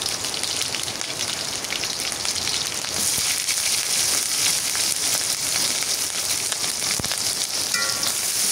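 Garlic and green chillies fry in hot oil with a steady, dense sizzle that runs unbroken and fairly loud throughout, crackling like rain on a surface, with no voices over it.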